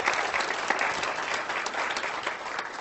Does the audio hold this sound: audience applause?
yes